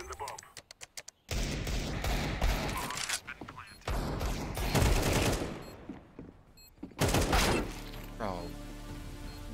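Counter-Strike-style gunfire from a competitive online shooter match, with bursts of rapid automatic shots and single cracks in loud clusters, interrupted by brief gaps, with a voice talking over the gameplay.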